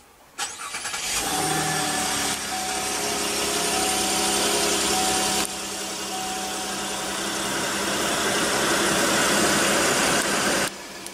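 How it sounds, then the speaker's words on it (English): 2015 Cadillac CTS with push-button ignition starting up: a brief starter whir, then a steady loud engine idle that holds evenly before stopping abruptly. "Just put your foot on the brake, hit the button to start."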